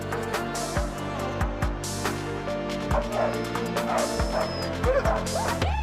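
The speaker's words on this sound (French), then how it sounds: "j'ai découvert le chien de traîneau." Sled dogs in Patagonia yipping and barking repeatedly, several animals close by in an excited, overlapping chorus with whimpers, no talking.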